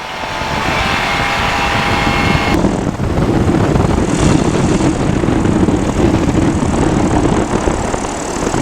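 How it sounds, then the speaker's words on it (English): A Sub 70 flexwing microlight aircraft comes in to land, its propeller engine droning loudly and steadily close by, with a rough broadband rush of wind and engine noise throughout. "That was a bad landing,"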